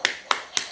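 Children in a classroom lesson join a teacher-led Coca-Cola clap chant: three sharp, crisp hand claps, evenly spaced and close, with brief quiet gaps between them.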